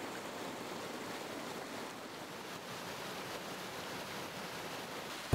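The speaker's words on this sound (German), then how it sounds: "Beim wunderschönen Chessiloch-Wasserfall prasseln die Wassermassen des Sevenbachs in die Tiefe." The Chessiloch waterfall of the Seeblibach plunges into a rocky gorge in the Entlebuch, heard as a soft, steady, continuous rush of falling water with no voices, even and unbroken throughout.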